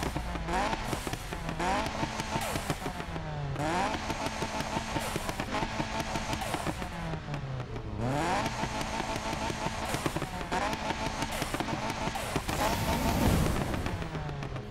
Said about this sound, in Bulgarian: нека чуем как звучи този двигател